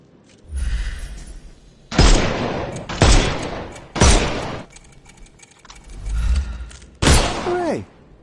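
Loud, close bursts of gunfire in the detective game Sherlock Holmes Chapter One as enemies' armour is shot off, five or six heavy blasts at roughly one-second intervals, with a voice speaking among them.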